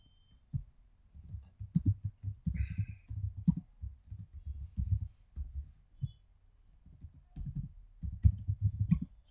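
Someone types database queries on a computer keyboard, producing a steady run of soft, close keystroke clicks in uneven bursts with brief pauses between them.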